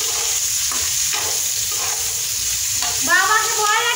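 Spinach sizzling loudly in plenty of oil in a pan, stirred with scraping strokes, a constant close frying hiss.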